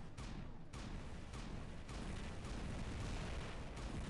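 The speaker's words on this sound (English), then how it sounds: "Got someone shooting on me from the other side, possibly." Dense, continuous gunfire from battling mechs in the War Robots game, a steady rumbling barrage with sharp bursts recurring roughly every half second, loud and filling throughout without speech.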